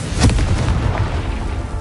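A Confringo fire spell detonates in Hogwarts Legacy, a loud booming blast with a rumbling tail that fades over a second or two.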